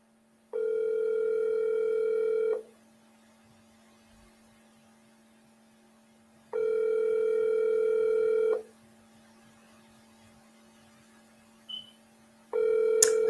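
Outgoing WhatsApp call tone while a call to Jamaica is placed: three long steady tone bursts of about two seconds each, separated by several seconds of quiet over a low mains hum, with no talking.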